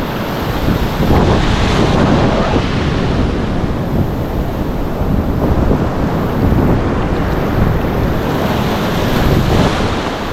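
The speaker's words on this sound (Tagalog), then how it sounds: "Grabe namang alon to, ayaw pakuha." Strong sea waves surge and crash close by during fishing in a loud, continuous roar, with gusts of wind buffeting the microphone throughout.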